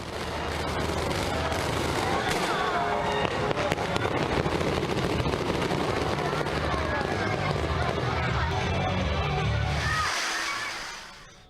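Fireworks crackle and pop in dense bursts with a crowd murmuring beneath, then fade to a brief hush.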